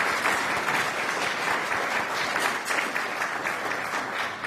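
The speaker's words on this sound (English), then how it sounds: "Maybe a brief round of applause for Prime Minister" Steady audience applause for a prime minister at a European energy-policy event, dense, continuous clapping that holds at an even level throughout.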